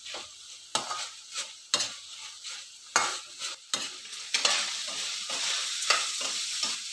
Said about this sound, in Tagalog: igigisa natin yung ating broccoli